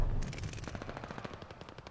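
Rapid automatic gunfire bursts in Call of Duty: Vanguard multiplayer, a loud opening blast trailing into a fast rattling string of shots that fades slightly.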